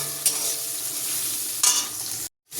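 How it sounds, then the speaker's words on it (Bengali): Whole spices frying in hot oil for a home-cooked dish, a steady close sizzle with two brief scraping stirs of the spoon, then a sudden cut to silence near the end. "এবার ভালোভাবে কিন্তু এটাকে ভালোভাবে লাল লাল করে ভেজে নেবো একটু।"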